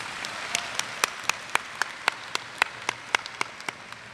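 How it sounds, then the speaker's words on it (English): Audience applause at the Lake Taylor High School 2012 graduation ceremony, heard as a string of sharp, separate claps at a fairly regular pace rather than a dense roar, moderately loud, with no talk over it. "Please give them a round of applause."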